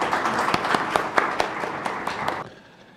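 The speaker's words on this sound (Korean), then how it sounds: "박수로 환영해 주시기 바랍니다." Light applause from a small audience, with a run of separate claps that fades out after a couple of seconds.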